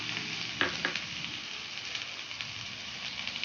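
Steady sizzling of chopped onions, green chillies, curry leaves and ginger-garlic paste sautéing in hot oil with fennel seeds, with a couple of scraping stirs near the start.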